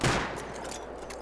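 An AK rifle firing in Rust, a short loud blast at the start that tails off into a rumbling echo lasting about a second.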